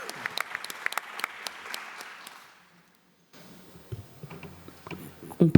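Audience applause at an opening ceremony of a national law conference, a dense patter of clapping that fades out, then after a short gap sparser claps and shuffling return alongside a voice.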